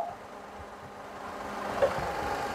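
A Perodua Viva 850 car engine idles with a low, steady hum as the air-conditioning compressor cycles off and on, fairly quiet and unchanging except for one small bump near the end.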